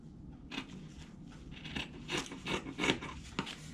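Pink scissors snipping through fabric to cut out a sewing pattern for a drawstring bag: a series of close, crisp cuts in uneven bursts, some louder than others, with no speech.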